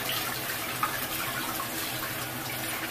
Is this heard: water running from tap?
yes